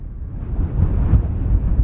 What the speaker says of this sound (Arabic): علينا هواء قوي يحرك الكاميرا